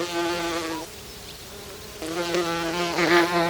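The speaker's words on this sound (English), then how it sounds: "I just sat there and I listened to the bees, the grasshoppers" Insects buzz steadily through a spring upland meadow, bees and grasshoppers droning in layered harmonic whines that dip briefly midway, then swell again louder and denser, with no voices present.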